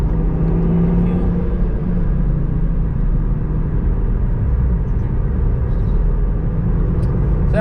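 Volvo C30 T5 on the Nürburgring, a steady close engine drone and road roar from inside the car as it slides around in the evening.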